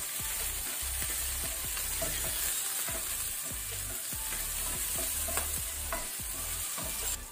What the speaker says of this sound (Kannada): ಈಗ 1 ಮಿನಿಟ್ ಮೀಡಿಯಂ ಫ್ಲೇಮ್ ಅಲ್ಲಿ ಇದನ್ನು ಸ್ವಲ್ಪ ಸ್ಟರ್ ಮಾಡ್ಕೊಳ್ಳೋಣ